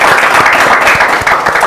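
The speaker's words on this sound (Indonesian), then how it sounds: "Boleh kasih tepuk tangan lagi dong." An audience at a local product promotion event claps loudly and steadily, a dense wash of many hands close by with no pauses.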